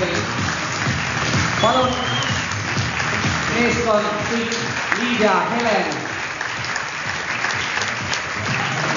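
Audience applause for a hair-colour team at a Goldwell ColorZoom collection show, a continuous patter of clapping under a voice speaking over a microphone.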